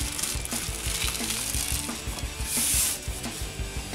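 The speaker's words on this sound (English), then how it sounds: "Take a piece of foil, fold it over, take your dowel, leave yourself a little handle to pull it out, and just roll it up." Aluminium foil crinkling and rasping as it is rolled around a wooden dowel to make a cannoli form, a busy stream of close crackles with rhythmic rubbing pulses, no voices.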